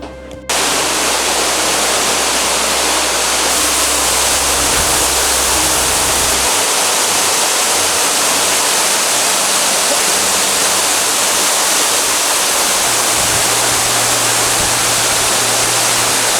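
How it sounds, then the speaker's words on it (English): Ruby Falls, an underground waterfall inside a cave in Chattanooga, roars as a constant, loud wash of falling water that continues unbroken throughout. "we're standing at the base of the Ruby Falls waterfall"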